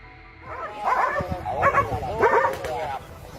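A dog kicked by a horse yelps and whimpers in three quick pained bursts, close and fairly loud, with some background noise underneath.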